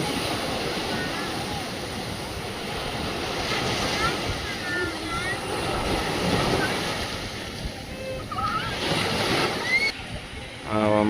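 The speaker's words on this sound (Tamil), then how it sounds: "கடல் அலை." Sea waves roll and wash continuously at Pudupattinam beach, a broad steady surf roar with wind buffeting the microphone, while people talk nearby.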